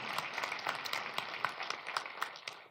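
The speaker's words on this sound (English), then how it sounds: "if we could just clap for them and make a lot of noise and celebrate them this morning" A church congregation on a Sunday morning claps for its volunteers, a quiet, steady patter of many hands with a few sharper claps standing out, heard from a distance in a large room.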